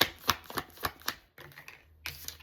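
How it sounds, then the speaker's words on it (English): Tarot cards being shuffled by hand, a run of crisp rhythmic flicks and riffles with a short pause midway before another burst, close and fairly quiet. "You see me shuffle the cards"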